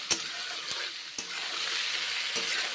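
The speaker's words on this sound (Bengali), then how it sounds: "মাশরুমগুলো ভেজে নিচ্ছি, নেড়ে চেড়ে বেশ ভালো করে ভেজে নিচ্ছি" Mushrooms stir-fried with onions in a pan, a steady close sizzle broken by a few sharp clicks of the spatula against the pan, with no voices.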